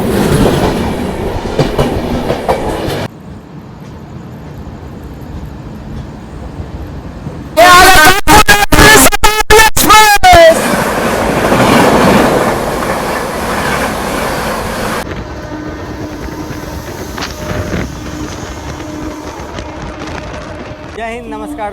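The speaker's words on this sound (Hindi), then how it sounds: "आ गई बिहार संपर्क क्रांति एक्सप्रेस।" The Bihar Sampark Kranti Express pulls into a station with loud rumbling and rattling carriages, a blaring horn in the middle, then wheel clatter and squeal fading beneath general platform noise.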